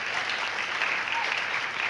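A church congregation applauds in a dense, steady burst of clapping that fills the room, loud and continuous throughout.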